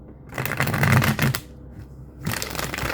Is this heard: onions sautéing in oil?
no